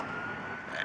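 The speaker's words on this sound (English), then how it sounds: "Here, you just heard some sirens that just turned down here on Finley Street." Emergency vehicle sirens on an East Dayton street, a steady wailing tone held at moderate distance over constant traffic rumble, with no one speaking.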